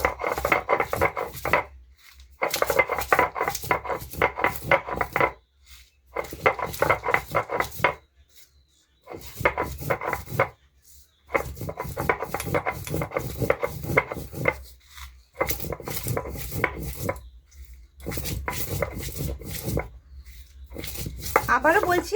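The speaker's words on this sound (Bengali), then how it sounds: "আমি পুরো মশলাটা নিয়ে নিয়েছি, আমি এভাবে একটু গুঁড়ো করে নিচ্ছি" Whole spices crushed on a shil-pata grinding stone, producing repeated bursts of gritty rubbing and scraping separated by short pauses, steady and close.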